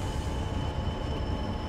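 A BR Class 40 diesel locomotive hauling heavy freight in Train Sim World rolls steadily downhill, a continuous dense rumble of wheels and engine with faint squeal, no voices.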